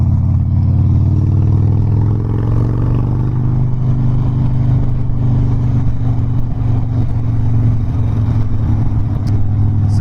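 A Harley-Davidson Dyna Low Rider motorcycle riding through a campus, its engine a loud, steady low rumble with deep throbbing tones and wind noise throughout, heard close from the bike itself with no talking.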